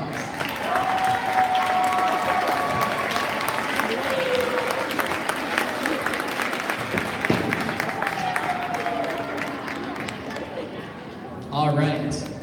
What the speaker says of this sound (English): give your parents and families a round of applause.